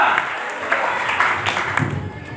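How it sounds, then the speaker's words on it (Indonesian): A church congregation at an Indonesian Pentecostal revival service gives a round of applause, a moderate, continuous wash of many clapping hands in a large room, with some faint voices mixed in. "Tepuk tangan dulu buat gereja Pentakosta Indonesia"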